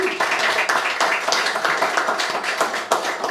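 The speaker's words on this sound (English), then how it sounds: "let's give Jeff a big round of applause, please." An audience at a house gathering gives a round of applause, a dense, continuous patter of many hands clapping fairly close and loud throughout.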